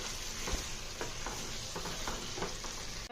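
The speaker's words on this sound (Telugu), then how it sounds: "ఒకసారి మళ్ళీ అంతా కలిసేలాగైతే కలుపుకోండి" A tomato and mint chicken curry gravy being stirred in a hot pan, with a steady frying sizzle and a few soft scrapes of the spoon at a regular pace, close and fairly quiet with no talking.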